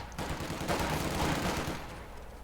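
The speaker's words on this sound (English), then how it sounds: "Engineers being pinned down by the MG42s." MG42 machine guns rattle in the Company of Heroes 2 video game, rapid sustained bursts of automatic fire mixed with battle noise, steady and fairly loud with no voices.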